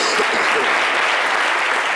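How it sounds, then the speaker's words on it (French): Studio audience applause on a midday talk show: dense, loud clapping throughout, close and even, with faint voices underneath. "Je ne suis pas très satisfaite des applaudissements."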